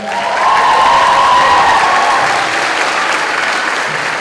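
Loud, sustained applause and some cheering fill a school hall at the Farragut High School 2023 spring concert as honor choir students are recognised, swelling early and holding steady without speech.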